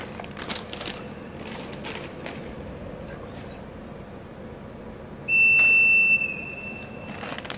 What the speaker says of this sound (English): So we hear alarms.